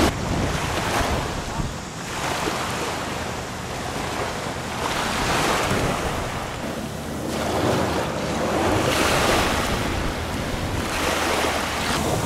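Surf breaks steadily on Tong Lang beach, a quiet stretch of sand on Koh Larn island off Pattaya. Swells rise and fall every couple of seconds under heavy wind buffeting the microphone, and no one speaks.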